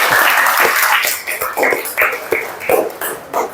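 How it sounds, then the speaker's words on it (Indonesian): Classroom audience applauding during a teaching-practice lesson, a continuous patter of many hands clapping at close range that gradually thins and fades toward the end. "beri aplaus lagi dong"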